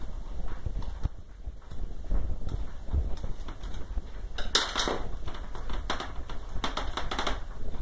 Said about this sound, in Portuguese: E cortar com a tesoura.